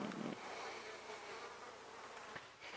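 Large flies buzzing steadily near a rooftop on the summit of the Banne d'Ordanche in Auvergne, a continuous droning hum that swells and fades slightly, with no voices.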